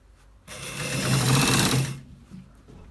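A sewing machine stitches a shirt collar in one steady, loud run of about a second and a half, starting and stopping abruptly with no talk over it.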